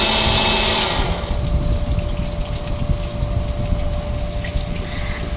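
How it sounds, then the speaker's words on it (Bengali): Water running strongly from a tap over raw chicken being washed, a continuous loud gushing rush with no talk. "তাই আমি চিকেনটা একটু ধুয়ে নেব"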